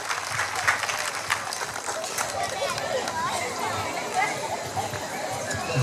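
Festival audience applauding at an indigenous Ticuna cultural evening, a steady wash of clapping mixed with crowd chatter and voices throughout.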